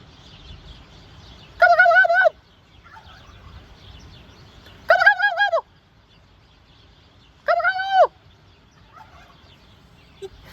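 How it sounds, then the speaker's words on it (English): Turkeys outdoors give three loud, rattling gobbles spaced a few seconds apart, with quiet rustling between calls and no talking. "the turkeys are walking towards me"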